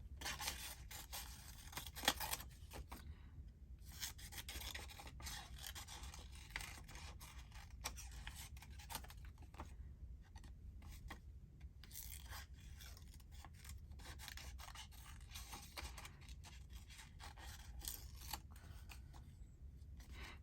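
Scissors snip through paper envelopes in a steady run of soft, close cuts and rustles across a quiet crafting session, with faint paper handling between the snips.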